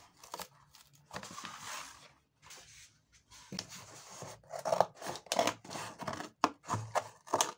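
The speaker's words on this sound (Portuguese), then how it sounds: "E depois recortei com a tesoura o que faltou para recortar." Scissors cut through cardboard pieces for a miniature ironing board, making a series of quiet, crunchy snips in uneven bursts, with no talking.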